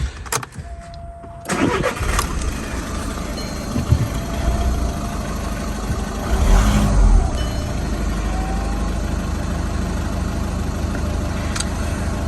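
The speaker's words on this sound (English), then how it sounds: "Start the engine." An Audi A1 1.6 diesel engine cranks and catches, then settles into a steady, loud idle that continues to the end.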